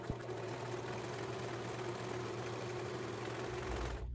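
A sewing machine runs an overcasting stitch along the edge of a drawstring pouch, giving a steady, fast mechanical whir with a rhythmic hum throughout before stopping abruptly near the end.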